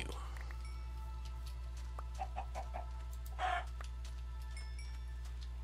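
A few short, soft chicken clucks from a Minecraft chicken, spaced out over a steady low game hum, with a slightly louder cluck near the end.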